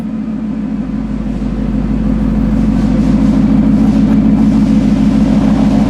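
A 2017 Shelby Super Snake Mustang sits idling, its engine giving a steady, loud, low rumble with a slight swell partway through, and no voices over it.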